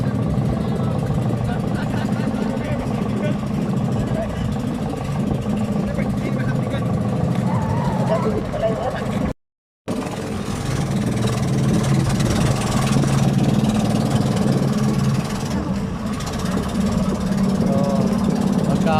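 A motorboat engine on a large boat drones steadily and loudly throughout, with a brief cut to silence midway and voices talking over the engine noise.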